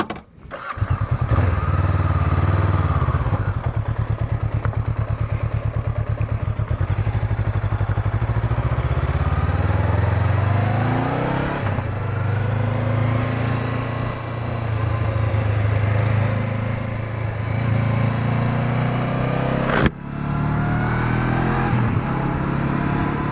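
A Honda CB500X motorcycle on an adventure ride on Vis island, Croatia, its engine starting and then droning steadily close by with rising and falling revs through gear changes.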